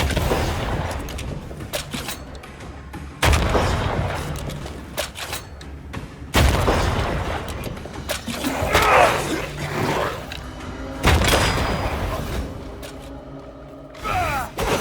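Gunshots in the video game Banishers: Ghosts of New Eden: loud, close reports fire in irregular bursts amid thuds and booms from the fight, with a few voice exclamations mixed in.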